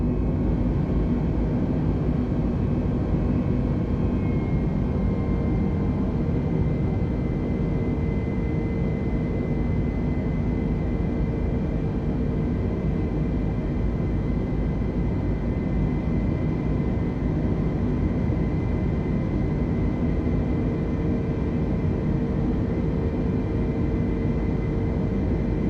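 Fixed-wing airliner climbing after takeoff in Microsoft Flight Simulator, a steady, dense engine roar with a constant broadband rumble and faint tonal whine, unchanging and loud throughout with no talking.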